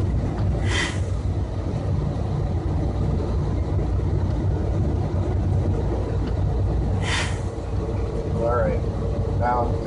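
Semi truck engine droning steadily in ninth gear on a bumpy road, a continuous low rumble heard from the cab, with someone talking over it.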